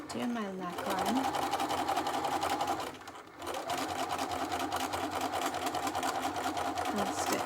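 A sewing machine runs in long steady bursts while stitching across a dress neckline to attach straps, with a brief pause midway, close and loud, and a voice speaking briefly at the start.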